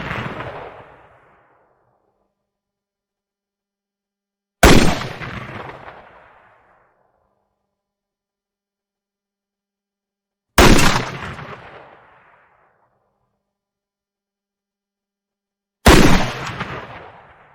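Four loud gunshot cracks ring out alone at spaced intervals as a sound effect in an audio drama, each one a sharp blast trailing off into a long echo before silence.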